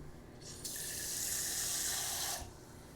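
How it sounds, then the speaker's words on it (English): Water runs in a steady gush for about two seconds as it is poured into a small cooking pot of scraped-in scallop pan residue, starting and stopping abruptly, fairly close. "Scrape everything in. Add some water."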